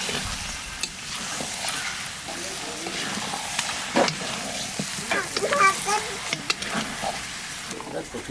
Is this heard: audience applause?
no